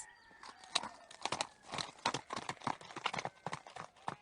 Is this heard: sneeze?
no